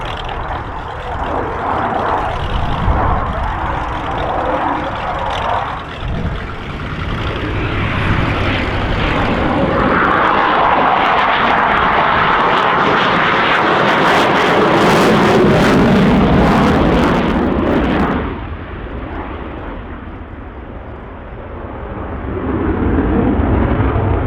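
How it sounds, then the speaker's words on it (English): F/A-18 Hornet fighter jet making a low overhead pass with gear, flaps and everything extended, a loud sustained broadband jet roar that swells to a peak mid-pass and then tapers off. "we'll set up for what's called the dirty pass, where literally everything we can extend on the jet is out into the airflow"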